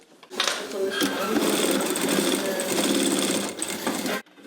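A sewing machine runs continuously as a woman stitches work uniforms in a garment workshop, a steady close mechanical hum lasting a few seconds with a person talking over it.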